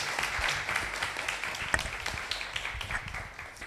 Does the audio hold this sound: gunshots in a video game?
no